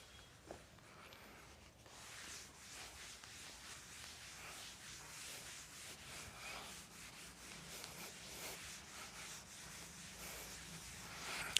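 A classroom board being rubbed and erased, a soft steady scrubbing with repeated back-and-forth strokes, faint and continuous, with no talking.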